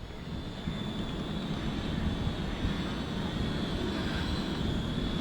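An E68 toy drone flies just after takeoff, its small propellers giving a steady high-pitched whine over a breezy outdoor rumble, moderately close and continuous with no speech.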